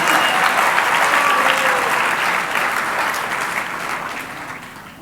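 Sustained applause from a large gala audience at a global health fundraiser, a dense steady wash of many hands clapping that holds strong and then slowly tapers off toward the end.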